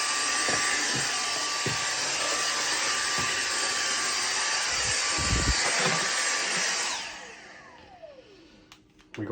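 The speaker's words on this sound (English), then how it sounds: "Yes, I have a Dyson vacuum." A Dyson V6 cordless vacuum cleaner, used in the back of a van, whines loudly and steadily with a few knocks and bumps, then spins down and fades as it switches off near the end.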